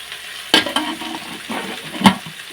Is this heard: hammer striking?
no